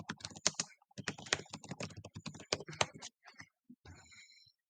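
Rapid keyboard typing of a search into the DrugBank database, with a quick run of crisp, close key clicks that trails off near the end.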